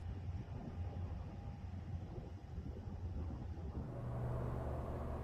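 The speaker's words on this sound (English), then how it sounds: "A full-length HST snaking its way along the Isle of Purbeck line to the seaside destination of Swanage." Full-length HST train running along the single-track Swanage branch line on the Isle of Purbeck, a faint, distant, steady rumble that shifts in tone near the end.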